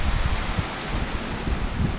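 Strong wind buffets and roars continuously, with gusty low rumbling and rustling, loud and close, no voices.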